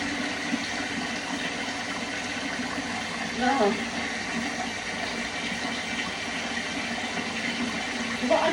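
Cold water pours steadily from a tap into mixing bowls in a home kitchen, a constant rushing hiss with a brief splash partway through.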